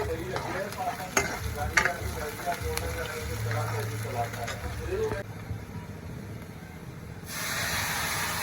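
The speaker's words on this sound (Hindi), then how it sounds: "तो यहाँ पे हमारे दाल में तड़का लग गया है, जीरा, सूखी मिर्ची और थोड़ा सा प्याज" Oil sizzles and crackles steadily in a hot pan as cumin, dried red chillies and a little onion are tempered for dal, with a few sharp pops early on, then the hiss carries on alone near the end.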